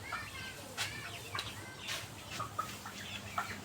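Chickens cluck inside a cow shed on a cattle farm, several short calls scattered at mid distance over a steady low barn hum, with no talk.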